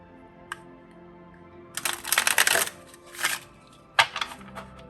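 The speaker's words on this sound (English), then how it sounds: "allow me guys to shuffle these cards for you." Tarot cards are shuffled by hand in a quiet room: a brief flick, then a rustling burst of riffling, a shorter burst and a final sharp flurry, close and fairly soft with no speech.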